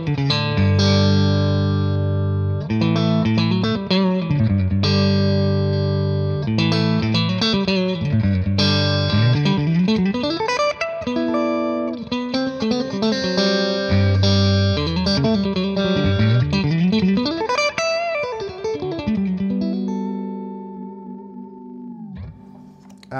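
Electric guitar played through a Brunetti Singleman 16-watt combo amp on its fat setting with the bright switch on, loud distorted melodic lines and bends with chords, ending on a single sustained note that fades out.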